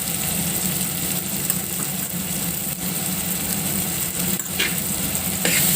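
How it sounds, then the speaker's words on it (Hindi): Spices, turmeric, red chilli, salt and tomato sizzle steadily in a hot pan while being stirred, with a constant close frying hiss and scraping strokes throughout. "इसको खूब हिला लिया पहले।"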